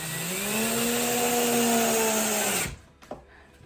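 A power driver runs screws into a wooden beehive kit with pre-drilled holes, whirring steadily for over two seconds with its pitch sagging under load, then stopping with a couple of light clicks.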